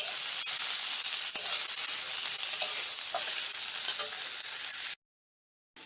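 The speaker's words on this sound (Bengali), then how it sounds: "রসুন, আদা দিয়ে একটু ভেজে নেব।" Garlic and ginger fry in hot oil in a pan for bottle gourd with chana dal, giving a loud, steady, close sizzling hiss that runs unbroken for about five seconds before cutting off.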